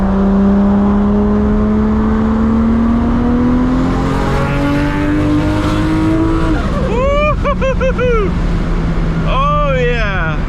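A 1000-horsepower Toyota Supra MK4 pulls hard with the engine note climbing steadily and loud from inside the car, then a break with a sharply rising whistle-like spool before the rev climb resumes; voices are heard now and then.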